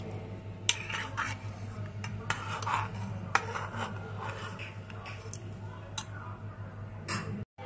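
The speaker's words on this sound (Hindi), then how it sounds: "इसमें बर्फ की अगर क्यूब्स डाल दी जाए तो बहुत अच्छा लगेगा" Ice cubes clink and tick against a glass or jug of watermelon sharbat in a home kitchen, a scattered series of small hard knocks and rattles over a low steady hum, with no talk.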